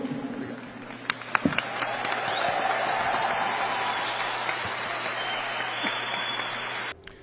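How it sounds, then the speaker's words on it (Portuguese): An audience applauds a member of Brazil's Communist Party, a dense, sustained wash of clapping that swells, holds steady, then cuts off abruptly at the end. "No final, palmas para esse membro de um partido comunista do Brasil."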